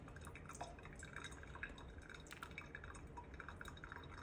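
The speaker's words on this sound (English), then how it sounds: "The goal here is to get the water to drip straight down." Water trickles and drips through a Bodum pour-over coffee maker, a faint, soft patter of small drops close by, continuous with light irregular splashes and no talking.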